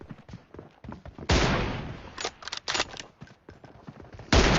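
Bursts of gunfire in a mobile shooter game's team deathmatch: a long, loud blast of shots, then several quick separate shots, and a final heavy burst near the end, with softer clicking effects in between.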